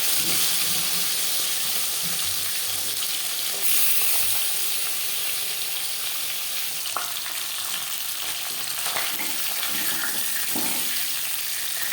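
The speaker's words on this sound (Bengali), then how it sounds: "এবার দিয়ে দেব ম্যারিনেট করে রাখা মাছের মাথা আর মাছ।" Marinated fish pieces and a fish head frying in four spoons of hot refined oil, giving a steady, close crackling sizzle with a few louder spits, and no voice over it.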